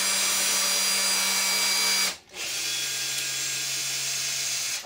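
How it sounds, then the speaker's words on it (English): Power drill cutting through a 3D printed ABS plastic mould, a steady loud whirring hum that briefly cuts out at about two seconds, then resumes at a slightly lower pitch and runs on, no voices. "you sort of let the drill do the work, do the cutting"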